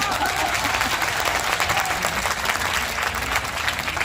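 Audience at a Hindi poetry gathering claps continuously, a dense, even round of applause with a faint murmur of crowd beneath.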